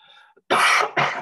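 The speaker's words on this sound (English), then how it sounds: "I've had a little bit of a chesty cough the last few days" A person with a chesty cough gives two harsh, loud coughs close by, a longer burst followed by a shorter one, after a faint hum.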